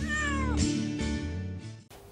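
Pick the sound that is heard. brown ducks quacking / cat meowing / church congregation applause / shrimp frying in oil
cat meowing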